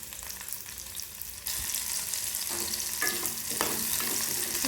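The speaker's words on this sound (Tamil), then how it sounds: "இதில் நம்ம சின்ன வெங்காயத்தை போட்டு நல்லா ஃப்ரை பண்ணிக்கலாம்." Small shallots frying in hot oil until golden, a continuous close sizzle that swells louder partway through, with occasional scraping stirs against the pan and no voices.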